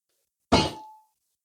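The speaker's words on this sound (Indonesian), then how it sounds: "Ini alat musik tahu namanya? Gong ya." A single struck gong, slightly cracked, gives one sharp metallic clang with a brief humming tone that decays within about half a second, heard alone in silence.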